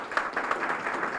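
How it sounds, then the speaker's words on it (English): An audience at a county legislative forum applauding its elected officials, a brief burst of many hands clapping at moderate volume. "Give them a big round of applause."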